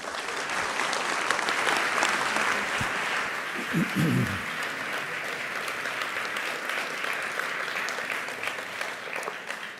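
Sustained applause from a lecture audience welcoming speaker Brian McLaren to the stage, steady broadband clapping filling the whole stretch, with a brief low voice or cheer surfacing midway.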